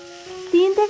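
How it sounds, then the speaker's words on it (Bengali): Marinated chicken pieces frying in hot oil over a high flame, a steady sizzle with a brief clatter of stirring and a louder burst near the end, close and alone. "তারপর এই চিকেনগুলোকে আমাদের হাই ফ্লেমে ভেজে নিতে হবে প্রায় 3 থেকে 4 মিনিট ধরে।"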